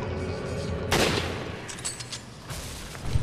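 Gunshots ring out in Resident Evil 5: one sharp, loud blast followed by several quieter, scattered shots and clatter within a few seconds.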